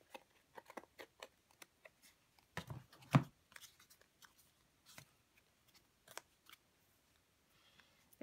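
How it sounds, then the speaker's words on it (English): Scissors snip through paper while mixed media tags are made, a quiet, close series of short crisp cuts and rustles with one louder snip partway through and no talking. "Okay, we're going to cut this down."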